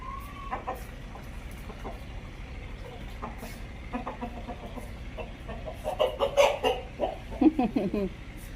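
Low clucking from a desi rooster, scattered soft calls that grow busier and louder toward the end, with faint voices and movement in the background.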